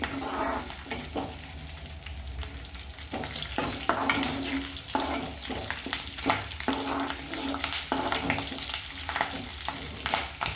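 Garlic cloves crackling and sizzling in hot oil while making gongura chutney, a steady close frying hiss broken by sharp pops and stirring scrapes, getting busier after a few seconds, with no talking.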